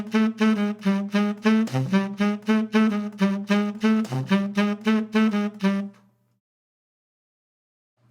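A melodic counter line introduces the song, built on the 13th scale degree. It is a rhythmic run of clear sustained tonal notes in a steady pulse, played alone and close, then it stops and silence follows.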